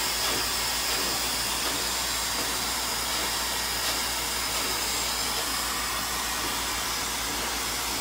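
Hair dryer blow-drying a short layered androgynous haircut, a steady loud whooshing roar that holds evenly throughout with no talking.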